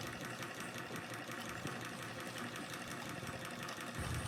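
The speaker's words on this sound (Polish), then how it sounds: "silnik Ericsona już działa" A small Ericsson hot air engine runs steadily with a fast, even mechanical ticking and whirring, continuous and fairly close.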